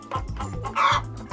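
Chicken clucking at a Paris market egg stall, several quick, close clucks in a short burst with one louder call near the end, set against a busy market bustle.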